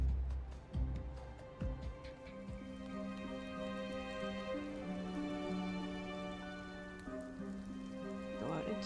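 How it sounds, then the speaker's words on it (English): Steady rain falls in the mystery video game Nancy Drew: Midnight in Salem, a soft continuous patter under sustained musical tones, with a few sharper drop-like hits near the start. "Go out into the rain."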